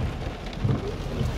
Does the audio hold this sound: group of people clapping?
no